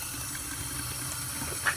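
Hot water running steadily from a kitchen tap, a constant close hiss of flowing water with no voices.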